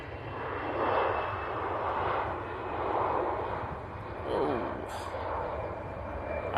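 An airliner touches down in gusty crosswind, a steady broad jet roar with surging swells and wind buffeting, heard from a distance outdoors near the runway.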